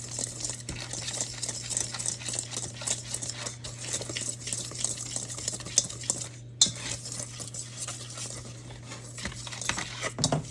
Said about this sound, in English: I just take a little whisk, or you can use a blender